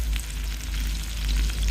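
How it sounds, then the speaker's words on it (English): Onions and chorizo fry in a wok over high heat, a steady close sizzle and crackle of oil with no talk over it. "Onions are frying off nicely, good caramelisation"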